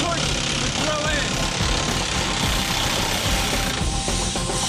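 A compressed-air rock drill hammers through rock in a South African gold mine at about 3,000 blows a minute, a loud, dense, unbroken pounding close by.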